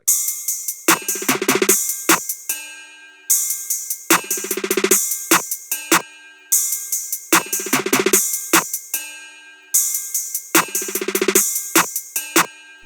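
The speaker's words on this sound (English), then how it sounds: "So with all the drums, this is what it sounds like." A looping drum pattern from a beat made in FL Studio repeats four times, each bar a dense burst of hits followed by a few sharp isolated strikes, then a brief gap.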